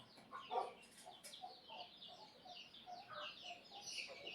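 Chickens clucking on a farm, a series of short close clucks and calls of varying pitch scattered irregularly over a quiet background.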